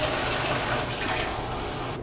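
Water pours steadily into a 16-ounce pint glass, a close, continuous splashing fill that runs for about two seconds and cuts off abruptly at the end.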